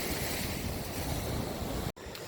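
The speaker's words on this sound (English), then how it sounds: "Thought this was a nice place to sit and watch the waves for a while" Lake Michigan waves washing onto a sandy shore in early spring, a continuous broad rush with wind buffeting the microphone, brief dropout near the end.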